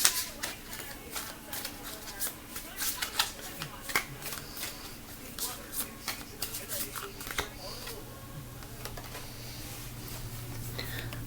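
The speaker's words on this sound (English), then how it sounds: "Let's pull one more card." A deck of cards is shuffled and cards are drawn, giving a steady stream of close, crisp riffling and snapping that continues for several seconds at moderate volume.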